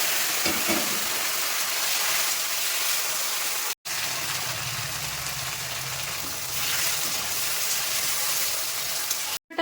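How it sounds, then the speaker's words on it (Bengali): Steamed taro corms fry in a pan with a steady, loud sizzle and crackle throughout, briefly cut twice, with no voices. "ভাপিয়ে নেওয়া কচুগুলো একটু ভেজে নিচ্ছি।"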